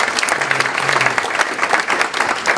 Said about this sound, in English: Let's give John a big round of applause for sponsoring.